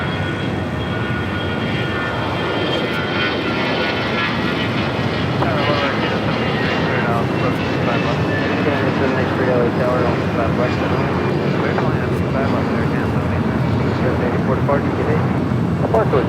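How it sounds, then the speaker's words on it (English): Airbus A320 jet taking off at Los Angeles airport, a loud sustained engine roar with broadband rush and whine, steady across the whole stretch, while a commentator talks over it. "Insomniac A320 now taking off."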